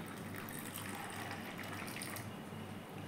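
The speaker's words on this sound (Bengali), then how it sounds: "এবার এই 3টেতে জল ঢেলে দেবো।" Water poured from a tap or jug into three bowls holding mung beans, chickpeas and peanuts, a steady close gush of liquid filling them with no talking.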